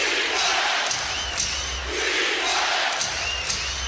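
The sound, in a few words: basketball arena crowd urging the Cavaliers on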